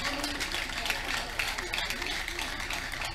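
Crowd clapping at an open-air crusade in Abuja, a continuous wash of hands with mixed voices and noise over it, moderately loud and unbroken.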